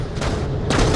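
Video game gunfire rattles in two close, loud bursts of rapid shots, a dense crackling volley followed by a short pause and a second burst.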